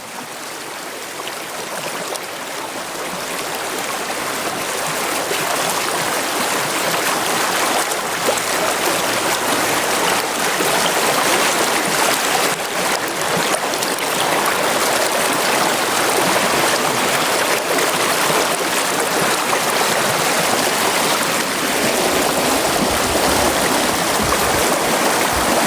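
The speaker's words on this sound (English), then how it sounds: "I love this view right here of the brook." A brook flows with a steady, full rushing and gurgling of water, close and continuous, building slightly over the first few seconds and then holding even for the rest of the stretch.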